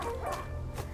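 Dog barking in the video game A Plague Tale: Innocence, a few close, sharp barks in quick succession within a second.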